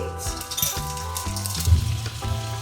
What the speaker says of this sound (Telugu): ఆవాలు అయితే వేస్తున్నానండి.